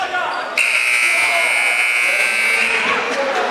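End-of-period buzzer at a high school basketball game, a loud sustained electronic tone lasting about two seconds over crowd noise in a gym.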